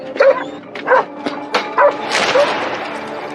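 A German Shepherd police dog gives several sharp barks and yips at irregular intervals, loud and close, with whining and rustling noise between them.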